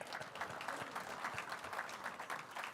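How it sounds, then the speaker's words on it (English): Faint, steady applause from a convention crowd at a municipal awards event, many hands clapping continuously at a distance. "Let's give him another big round of applause."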